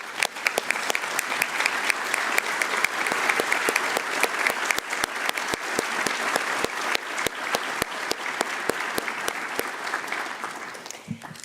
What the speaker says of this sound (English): I would like to invite her to stand so that we can congratulate her with a round of applause.